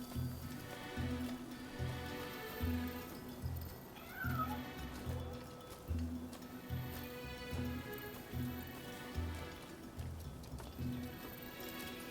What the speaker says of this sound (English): Cat's back.